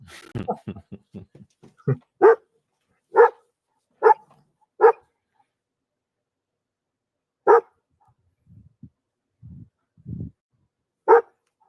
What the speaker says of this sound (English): Everybody's dogs barking back.